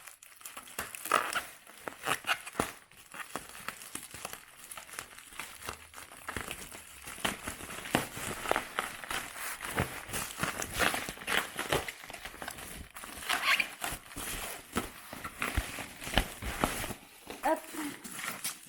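Cardboard packaging is torn and crinkled in repeated scraping, rustling bursts at close range while the parcel is opened, with occasional voices in the background.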